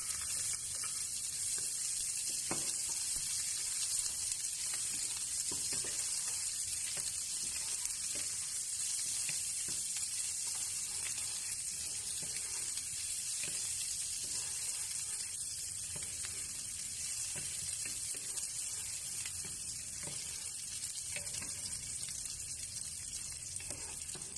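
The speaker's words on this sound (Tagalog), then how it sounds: "Mainit na yung ating pan at saka ang ating oil. So, ilalagay muna natin ang ating sibuyas." Chopped onions fry in hot oil in a pan with a continuous, even sizzle and faint crackles, moderately loud and steady throughout, with no talking.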